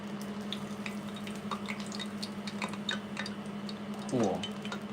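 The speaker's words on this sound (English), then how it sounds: "Let that sizzle for a little minute." Faint crackling and popping of food frying in a pan, a light steady sizzle with scattered ticks and a brief low clatter near the end.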